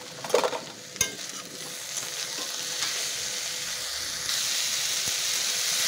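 Bitter gourd leaves cook with boiled eggplant in a pan, a soft continuous sizzle and hiss with a couple of sharp stirring knocks early on, rising slightly toward the end.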